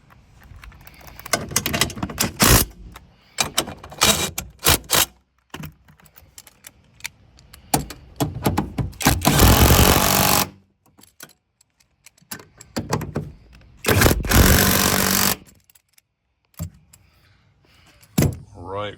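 Seat bolts are tightened in a 1988-99 Chevy crew cab truck with a power tool, loud bursts of ratcheting buzz alternating with clicks and handling noises, close up, with talking in between.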